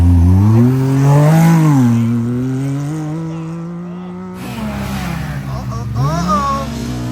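A powerful UTV engine revs hard at a desert drag-race launch, climbs, dips after a double clutch, then revs again, loud and close, with a voice talking over it.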